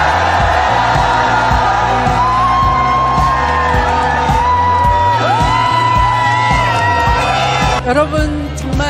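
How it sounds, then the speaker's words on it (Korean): A crowd at a street political rally cheers and shouts loudly and continuously, with whoops and raised voices layered over a dense crowd roar. "추미애 전 장관님을 큰 박수로 모시겠습니다."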